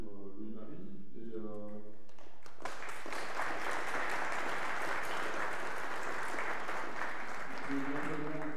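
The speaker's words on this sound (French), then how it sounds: "je propose d'applaudir Louis-Marie" Audience applause for the presenter at a talk on building a 3D printer; a voice speaks briefly before a dense burst of clapping rises and holds steady, with speech returning faintly at the end.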